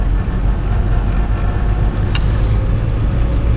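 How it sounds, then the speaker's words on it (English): Engine of a 1947 Frazer car driving on a country road, a steady loud drone that holds through the gear change into second, heard from inside the car with no talking. "Okay, here we go. Second gear."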